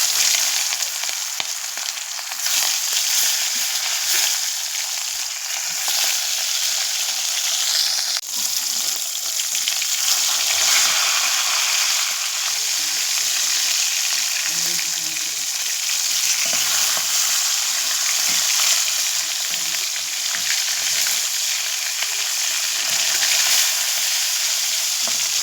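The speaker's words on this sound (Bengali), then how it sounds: "কড়াইয়ে তেল গরম হয়ে গেছে, মাছগুলো ছেড়ে দেবো।" Small fish frying in hot oil in a kadai, a steady, dense sizzle and crackle that continues close and loud without pause, with no voices.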